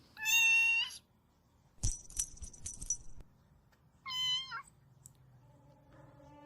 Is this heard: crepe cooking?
no